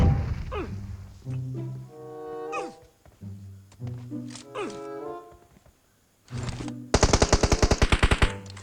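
Rapid bursts of machine gun fire in PUBG Mobile, a sustained rattling volley near the end, with game sound effects and brief chatter earlier.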